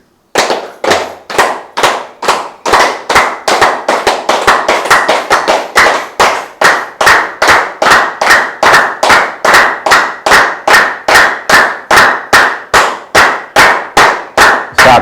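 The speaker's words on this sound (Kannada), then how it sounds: "ಕೈಗಳನ್ನು ಚಪ್ಪಾಳೆ ತಟ್ಟಿ." Hands clapping during a yoga practice session, a long run of loud, sharp claps in a steady rhythm that speed up slightly and continue alone for about fifteen seconds.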